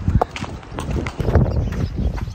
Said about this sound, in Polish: Prowadzę konia ze złej strony i bez uwiązu.